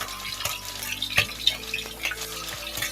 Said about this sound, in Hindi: अब मैं इसके अंदर आहिस्ता आहिस्ता चिकन शामिल करूँगी और उसको फ्राई करूँगी।